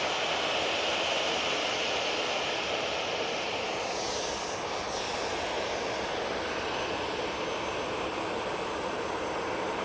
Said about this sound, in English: Easyjet to Geneva now on the roll.